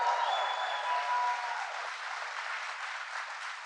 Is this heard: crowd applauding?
yes